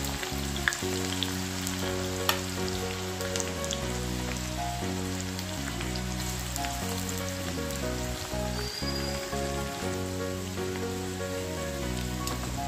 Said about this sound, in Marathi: आता आपण हा कांदा तळून घेऊया तेलात